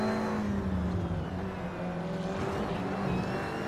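Race cars in Gran Turismo Sport on the Zandvoort circuit, braking hard into a right-hand corner, give a loud, steady, close engine drone whose pitch dips slightly and then holds.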